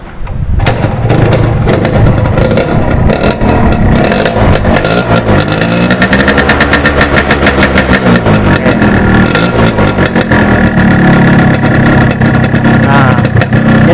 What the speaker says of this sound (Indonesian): suara khas dari knalpot Altec C17